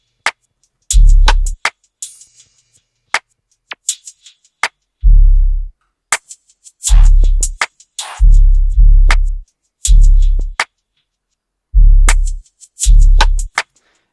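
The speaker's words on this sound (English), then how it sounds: "It's the hi-hats, and they sound like this." A programmed hi-hat pattern from an FL Studio beat plays as crisp, sparse ticks between heavy, booming sub-bass hits in a steady, loud, dry loop, with no voice.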